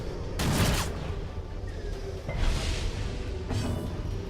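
Blanket Fire attack from the dungeon-crawler game Darkest Dungeon: a loud burst of game gunfire with a sharp opening blast, then two further bursts, all over a rumbling low-end battle backdrop with no talk.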